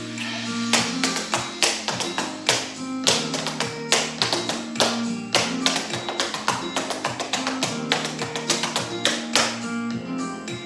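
Fast, dense advanced tap dance riffs travelling across the floor: rapid clusters of sharp shoe taps and thuds on a hard floor, continuous and close up, with no voices.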